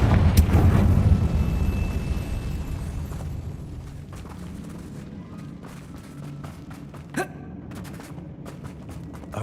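A Confringo blasting curse from the Hogwarts Legacy video game bursts loudly at the start and fades into a lingering rumble; a smaller sharp impact cracks out later in the quieter stretch.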